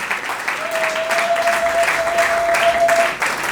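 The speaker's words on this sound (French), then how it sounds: "Est-ce qu'on ne peut pas applaudir pour ça, s'il vous plaît, dans la salle?" Steady applause from a crowd at an indoor wedding reception, many hands clapping continuously for a few seconds, with a faint sustained tone running underneath.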